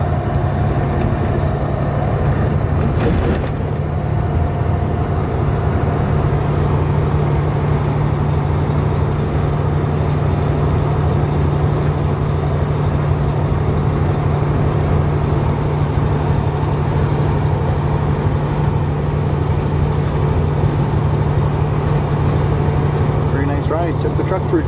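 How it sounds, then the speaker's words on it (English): A red 2004 670 truck with a ZF Meritor transmission drives through city streets in lower gears, a steady low engine hum and road rumble heard from inside the cab, with one brief knock early on. "Took the truck for a drive through the city as well at lower shifts"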